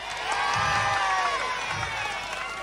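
A crowd at a live impersonation show in Hakodate claps and cheers loudly, shouts and whoops rising over dense applause during a song vote.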